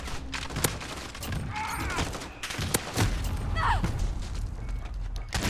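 Flamethrower shotgun firing in Call of Duty Modern Warfare: several sharp, loud blasts at irregular intervals, each followed by mechanical clacks and a roaring, whooshing burn, with faint in-game background noise between shots.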